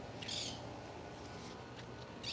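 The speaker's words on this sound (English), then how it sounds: "All right, now you heard that bird." A single bird calls out, a short bright cry near the start, with a few fainter chirps after it, all over a steady low background hum.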